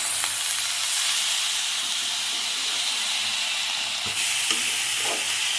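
Bathua greens sizzle and hiss in a hot frying pan as they are stirred, a steady loud crackle throughout with a few sharp scraping clicks of the spatula toward the end; no talking.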